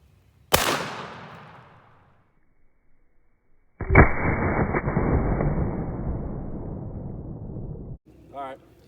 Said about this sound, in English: now we're going to be shooting the turkey load through the full choke